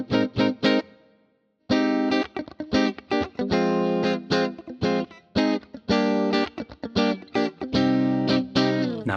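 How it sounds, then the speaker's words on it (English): A clean electric guitar tone from a Fractal 59 Bassman amp model with neutral settings and low and high cuts: close picked notes and short chord stabs in a rhythmic pattern, with one brief pause near the start. "This is a 59 Bassman, really neutral settings here, just trying to give a nice standard clean tone."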